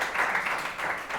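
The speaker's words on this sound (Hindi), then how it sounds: "तू कंजूसी कर रही है ताली बजाने में, बजा" Students clap their hands in a classroom during a lecture, a steady dense patter of applause with no one speaking.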